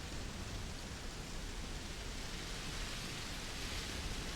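Rain falling in the video game Starfield, a dense, even hiss of downpour that holds steady and unbroken throughout, with no voices.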